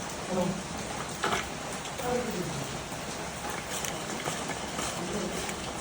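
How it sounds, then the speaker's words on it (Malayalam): Steady rain hisses throughout at moderate level, a constant wash of falling water, with faint murmuring voices occasionally audible beneath it. "മഴ പെയ്യുന്നുണ്ട്"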